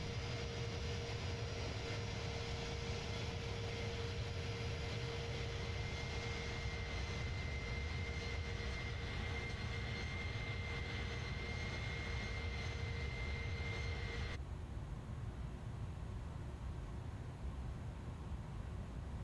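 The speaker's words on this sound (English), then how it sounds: "What a beast of an aircraft" Airbus A310 engines in a flight simulator, a constant even jet roar with a steady whine, unbroken throughout, one tonal layer dropping away near the end.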